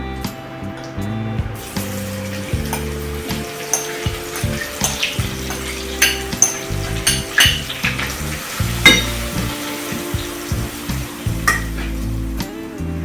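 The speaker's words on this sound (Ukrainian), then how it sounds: "Зараз починаємо смажити цибульку." Steady sizzling of onions frying in lard in a pan, with scattered pops and crackles and occasional stirring, continuous throughout.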